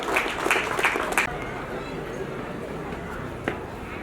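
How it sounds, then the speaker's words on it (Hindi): An audience at a GAIL India Limited Republic Day ceremony applauds an award recipient, with dense, loud clapping for about a second that then drops to a low crowd murmur. "जोरदार तालियों से इनका अभिवादन।"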